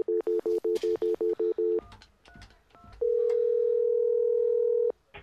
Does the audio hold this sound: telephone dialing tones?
yes